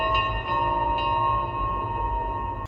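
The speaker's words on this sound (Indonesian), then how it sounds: "lonceng ajaib yang berbunyi kelinting-kelinting karena terhembus angin" A magic bell tinkling in the wind rings out with a few light strikes near the start, and its bright, sustained metallic tones hang and shimmer before stopping abruptly.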